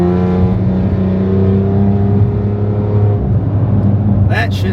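A BMW X3 M engine revs with a steady, loud harmonic drone that holds for several seconds before easing off, close to the listener.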